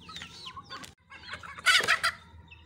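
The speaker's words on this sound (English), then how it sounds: "So this is a mother hen." A mother hen and chickens on a free-range poultry farm cluck and call in busy overlapping bursts, with one louder squawking flurry near the middle, close by and with no talk.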